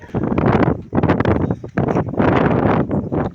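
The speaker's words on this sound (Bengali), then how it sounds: "আর তেমনি প্রচণ্ড হাওয়া" Strong storm wind buffeting the microphone on a road trip through a tempest, loud rumbling gusts in repeated surges with short lulls between them.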